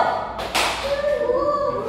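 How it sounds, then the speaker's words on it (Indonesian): A class of students claps once in unison on cue during a microteaching lesson, giving one sharp, close burst early on, followed by a faint voice and a lingering tone. "Tepuk satu"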